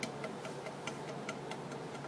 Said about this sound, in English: that noise is basically the backboard going back and forth because this hole is a little bit larger than what it needs to be